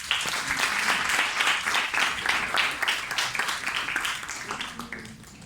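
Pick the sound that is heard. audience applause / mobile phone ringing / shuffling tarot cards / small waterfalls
audience applause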